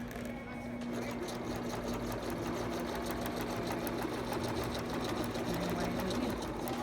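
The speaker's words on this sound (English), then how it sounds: "You just carry on sewing." A sewing machine runs continuously and close while sewing a wire casing into a cloth face mask, a steady fast mechanical whir with no pauses.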